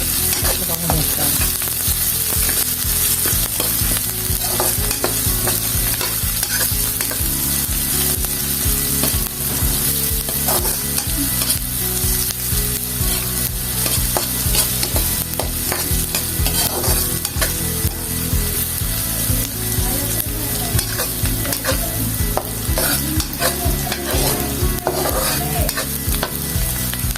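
Beef fries with onions in a pan for a Filipino dish, giving a loud, unbroken sizzle close up, with repeated scraping and clinking as the mixture is stirred and faint steady tones behind it.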